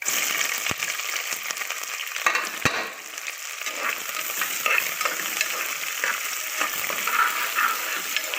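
Big onions fry in a pan for home-made biryani, giving a steady crackling sizzle with occasional sharp clicks from stirring close by. No one speaks.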